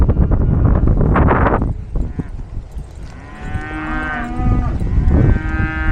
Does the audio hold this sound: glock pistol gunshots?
no